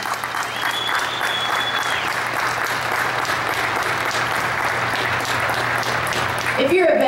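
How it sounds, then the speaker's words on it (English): A large crowd applauds steadily at the opening of the Barrett-Jackson 2014 collector car auction, a dense, sustained wash of clapping for the full stretch, loud and continuous with a faint steady hum beneath. "Will you please give them a round of applause?"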